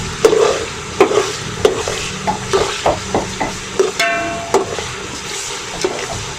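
Red tomatoes stirred into frying masala for aloo pulao, with a spoon scraping the pot in a steady rhythm of repeated strokes over a wet, bubbling sizzle.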